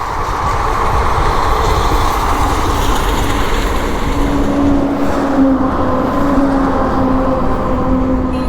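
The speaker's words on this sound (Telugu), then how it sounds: "ట్రైన్ పోతుంది." A train rolls past on a track running beside a road, heard from a motorbike ride in Gujarat: a loud, continuous rumble that fills the whole stretch, with high wheel squeals rising over it in the second half.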